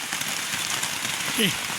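Heavy rain falls at night in a forest camp, a dense, even hiss of drops striking surfaces close by, with a brief faint voice near the end.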